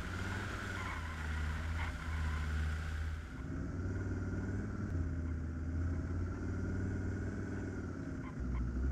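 An off-road vehicle's engine in Arma III drones steadily at mid pitch while it is driven downhill, holding a constant rumbling tone with a brief shift partway through, close and continuous.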